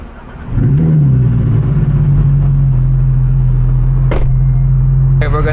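Porsche GT3 R race car engine firing up and settling into a loud, steady idle up close, with brief sharp clicks and a short burst of noise near the end.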